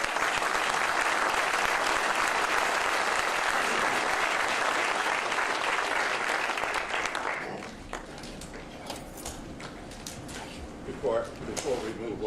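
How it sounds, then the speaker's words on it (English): Applause from the audience at an FAA aviation safety summit, dense clapping that stays strong for about seven seconds, then tapers off into scattered claps and room noise. "could we just give a round of applause to these really great"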